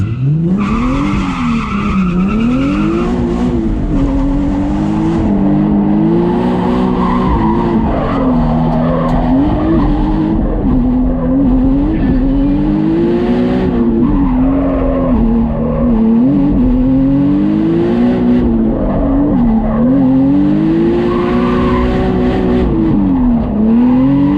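A drift car on fresh tyres makes a loud, continuous run: its engine rises and falls in pitch while the tyres squeal and skid throughout.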